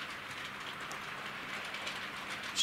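A Heljan class 33 model diesel locomotive named Sultan pulls a string of carriages, giving a faint, steady hiss and rumble of rolling wheels on track, continuous and unbroken.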